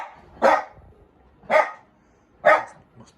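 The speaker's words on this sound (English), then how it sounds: "Must be someone walking past outside, that's why the dogs are barking." Dogs bark outdoors in three evenly spaced single woofs about a second apart, heard at a moderate distance against a quiet background with no talking.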